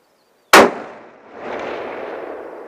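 A single sharp rifle shot at a sniper shooting competition on an outdoor range, loud and close, followed by a rolling echo that swells back across the terrain and slowly fades.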